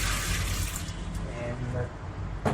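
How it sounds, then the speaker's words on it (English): Water from a tap runs steadily into a bucket being filled to clean a Whirlpool washing machine, a close, continuous splashing rush that ends with a brief clunk. "the bucket filling process of the water"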